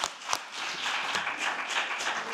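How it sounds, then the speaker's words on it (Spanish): An audience applauds at the close of a podcast session, with steady, fairly faint clapping running throughout. "Un aplauso para Osvaldo."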